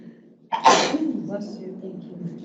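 A single sharp sneeze bursts out at close range in a quiet meeting room, followed by a brief murmur of voices.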